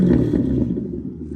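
A loud, raw car engine roar with an X-pipe and no muffler rises and then slowly settles, harsh and unmuffled, close by with no talking.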